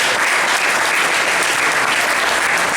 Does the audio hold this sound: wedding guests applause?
yes